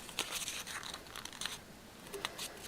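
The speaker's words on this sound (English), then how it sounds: "Kind of crumple up the ends a little bit." Craft leaf ends being crumpled and rolled by hand for a Halloween centerpiece, giving faint, close crinkling and crunching bursts in quick irregular clusters with no talking.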